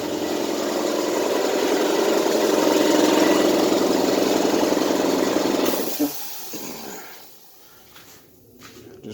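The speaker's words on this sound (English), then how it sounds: "Let me go shut off the compressor." An air compressor runs with a steady, loud mechanical chug and hiss, then cuts off abruptly around the middle, leaving quieter background noise.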